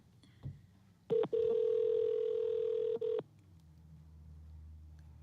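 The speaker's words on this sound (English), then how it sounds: "Uh-oh. phone call." A telephone tone sounds clearly in a quiet room: a short beep, then a steady flat tone holding about two seconds before cutting off, followed by a brief blip and low background hum.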